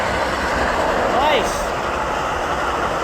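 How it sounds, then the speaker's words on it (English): An Amtrak Capitol Corridor train, unit 2103 running northbound, rumbles past at moderate distance as a steady broadband roar with a brief tonal squeal midway, while a person speaks briefly over it. "Here comes the train."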